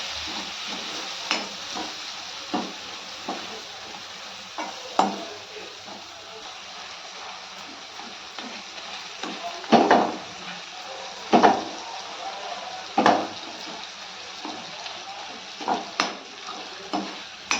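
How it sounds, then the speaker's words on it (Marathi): Spices and onion-tomato sauté in a pan with a little water, a continuous low sizzle broken by repeated scraping stirs and clanks of a spoon against the pan, with brief talking. "आपले मसाले जळू नाहीत म्हणून थोडंसं पाणी टाकून आपण परत परतून घेऊया"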